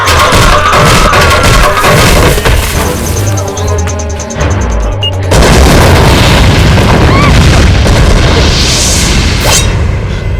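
A bomb blast in a Bhojpuri action film, loud and continuous, with a rumbling boom that surges, thins and then swells again over ten seconds, with a sharp burst near the midpoint.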